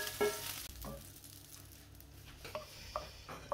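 Golden chicken strips tossed in a hot pan for fajitas, a low sizzle broken by a few scraping stirs and soft clacks of a utensil, close and fairly quiet.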